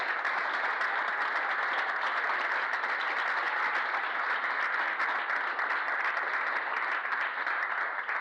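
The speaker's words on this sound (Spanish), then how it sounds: "Denle un aplauso al Rey por eso, hermano." A church congregation breaks into sustained applause during a sermon, a loud, uniform wall of clapping hands that carries evenly from start to finish with no talking over it.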